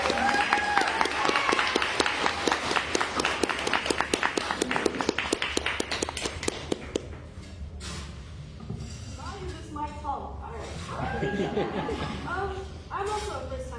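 An open mic crowd claps warmly for the next reader, sharp and dense at first, then fading out after about seven seconds into light chuckles, murmurs and scattered laughter.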